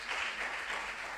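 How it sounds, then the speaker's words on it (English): Brief, faint, even applause from the audience at a regional junior science and maths quiz. "A round of applause for her."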